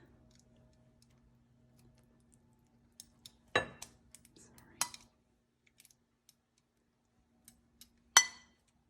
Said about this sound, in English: Then arrange your shrimp.